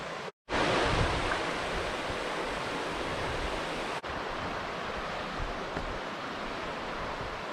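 A river on a Maine forest trail rushes in a steady, broad wash of flowing water, close and continuous with no voices over it.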